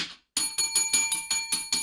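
A bright bicycle-style bell rings in a quick run of about eight even, metallic dings after a short silence, clean and close with no talking.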